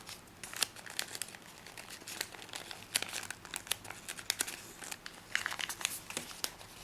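An origami paper flap being folded down against an edge: close, crisp paper crinkling in irregular clusters of crackles and rustles, getting busier toward the end, with quiet gaps between handling.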